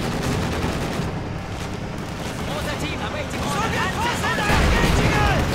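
IS-2 heavy tank guns firing in Company of Heroes 2 battle, booming shots mixed into continuous gunfire and explosions, with a commentator talking over the action.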